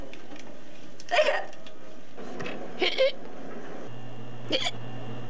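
Hiccups in a 1999 TV commercial, three separate hiccups spaced out over a few seconds, each a sharp, close gulping burst set against a steady background hum.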